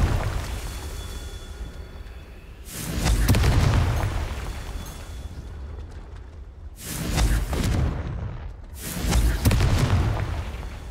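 Deep booming explosions from the Confringo fire spell in the video game Hogwarts Legacy, three heavy blasts a few seconds apart, each swelling loudly and rolling off, with no voice over them.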